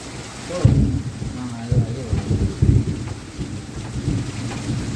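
Heavy rain falls in a thunderstorm, with repeated loud, deep thunder rumbles and cracks rolling over a constant hiss of rain. They are close and powerful, with several distinct bursts across the few seconds.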